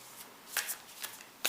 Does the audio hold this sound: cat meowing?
no